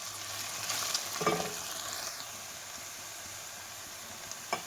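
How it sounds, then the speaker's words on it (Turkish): Tomato paste is sautéed with peppers in a pan for a leek and rice dish, giving a steady soft sizzle with a brief stirring scrape partway through, with no talking. "Şöyle bir tatlı kaşığı salça ilave ediyorum. Onu da güzelce kavuruyorum."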